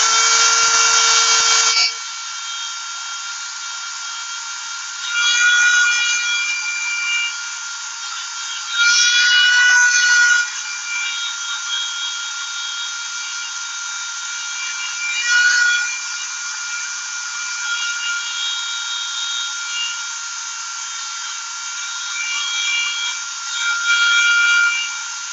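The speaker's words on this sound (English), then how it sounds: "Sometimes with polishing, like at a high RPM, it does get a little hot, so you got to put it down sometimes" A polishing wheel spins at high RPM against gun trigger parts, giving a steady, fairly loud high-pitched whine with sharper bursts each time the metal is pressed to the wheel.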